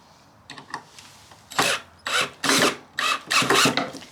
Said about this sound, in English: So I'm holding it underneath and I'm screwing from the top down.